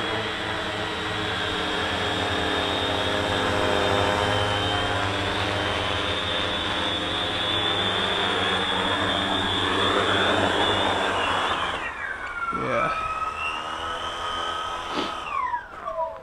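A TBS Discovery hexacopter drone on a 6S battery whines steadily with layered motor tones, then the pitch sweeps down and shifts as it descends to land, staying close and fairly loud throughout.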